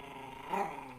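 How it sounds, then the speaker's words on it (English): A dog growls low and close, a single rumbling snarl that swells briefly near the middle and then fades, with no talking over it. "Don't you growl at me."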